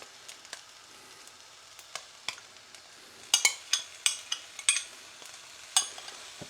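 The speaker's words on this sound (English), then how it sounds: "So I'm going to go in with the sauce now, just to coat and bring everything together." Hoisin sauce is stirred into pork and noodles in a pan: soft sizzling with a run of sharp utensil scrapes and clicks against the pan, getting busier in the second half.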